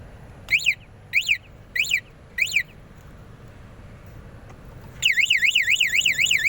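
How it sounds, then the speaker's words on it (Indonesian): A motorcycle anti-theft alarm gives four short rising-falling chirps at steady intervals, then breaks into a continuous loud warbling siren, sounding close over a faint background hum. "alarm akan berbunyi di sini."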